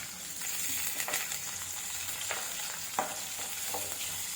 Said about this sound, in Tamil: வெங்காயம், பச்சை மிளகாய், கருவேப்பிலை எல்லாத்தையும் போட்டு தாளிக்க போகிறேன்.